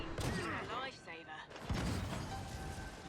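Gunfire in a competitive video game match, shots fired from a distance, thudding bursts heard under fast energetic commentary by a caster.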